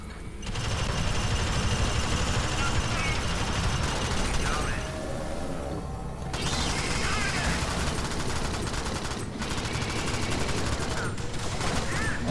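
An automated sentry gun turret in the co-op shooter game Alien Swarm fires sustained rapid bursts, dense and continuous with a few brief gaps, over a busy game soundscape.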